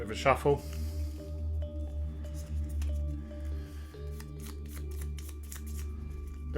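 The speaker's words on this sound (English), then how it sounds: "So a little bit of a shuffle." A deck of game cards being shuffled and cut on a tabletop, soft papery riffling and flicks close up, under a low steady background hum.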